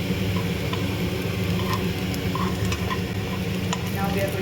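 Chopped garlic frying in a pan for a chicken salad, a steady dense sizzle with occasional light clinks of a utensil stirring.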